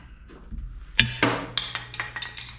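Metal wrench clinking against screws while starting them into a Harley-Davidson Road King air cleaner, a string of sharp close ticks and taps spaced about a beat apart after one brighter knock.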